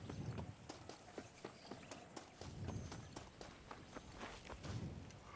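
Horse hooves clip-clop at a steady walking rhythm in the video game Red Dead Redemption, moderately close over quiet outdoor ambience with a soft low rumble.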